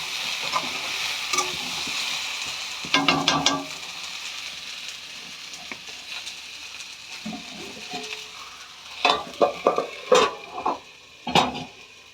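Cauliflower frying in a kadai, with a soft background sizzle broken by bursts of spatula scraping and stirring against the pan, the clatter growing busier toward the end.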